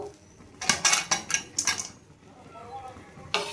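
Sugar, fried cashews and raisins stirred into pulao in a pot, a run of quick metallic scrapes and clinks from a spoon against the pot, fairly faint and close, then a pause and one more scrape.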